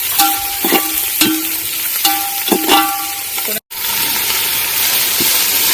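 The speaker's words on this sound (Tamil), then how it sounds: "ஆனியனை போட்டு நல்லா ஆனியன் வதங்கிடும்." Sliced onions fry for chicken biryani, a loud, close, continuous hiss of oil with repeated scraping and tapping strokes of a spatula against the pan, broken by a brief dropout partway through.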